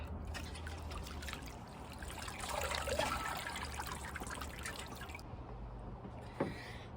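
Water trickling and pouring steadily while mizuna greens are washed for fermenting, a close, moderately quiet running stream with a brief splash near the end.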